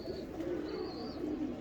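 A teddy pigeon coos in a faint, continuous low murmur with a thin high tone drifting above, quiet and distant-sounding, with no talking.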